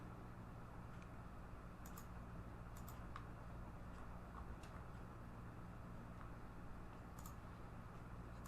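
Typing on a computer keyboard while filling out an account sign-up form, a steady run of soft, faint clicks spread over several seconds under a constant background hiss.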